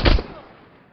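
A single loud rifle shot rings out at a training range in Six Days in Fallujah, a sharp crack with a booming low end that decays into a fading echo over about a second.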